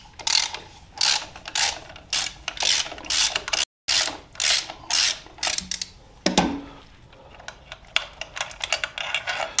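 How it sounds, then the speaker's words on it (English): A ratchet backs a bolt out of a 2000 Suzuki Katana 750 motorcycle, clicking in a steady series of quick, close strokes with brief pauses between pulls and no talking. "the second bolt that I'm going to take out is longer than the first bolt I just took out."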